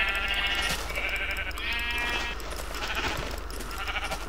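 Sheep in Minecraft bleat several times in a row, loud and close, over a steady ambient hum with no talking.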